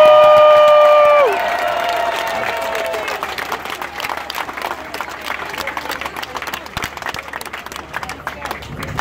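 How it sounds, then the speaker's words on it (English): Crowd at a ribfest eating contest claps and cheers for the contestants, a sustained scattered applause with babble, following a brief sustained tone at the start. "Applause for all our contestants."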